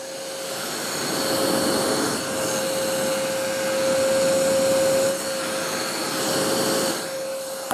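A Verk Group 15703 mini handheld vacuum cleaner running steadily up close, with a continuous whining motor tone and airy rush that swells slightly in places, with no talking.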